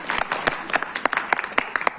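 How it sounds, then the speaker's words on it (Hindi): A lecture audience claps in a short burst of distinct, fairly loud hand claps, a modest crowd clapping unevenly for about two seconds. "तालियां एक बार बजा दीजिए।"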